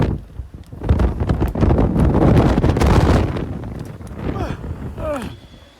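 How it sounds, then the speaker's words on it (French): Gusty wind roars and buffets the microphone near a large harbour, with rumbling swells and a few thin whistling tones toward the end as doors rattle. "Vous entendez même le vent siffler."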